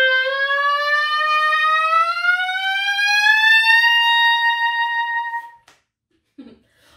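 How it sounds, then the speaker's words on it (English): A clarinet glides in one smeared glissando up a scale, a loud sustained tone rising steadily in pitch for about five seconds before cutting off into near silence. "But if I decided to glissando up that scale and just smear all the notes together"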